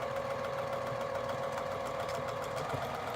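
A sewing machine stitches cotton pillow casings, running steadily with a fast mechanical whir and rapid needle rattle, close and continuous with no talking.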